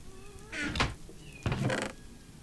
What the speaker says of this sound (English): I can hear my cat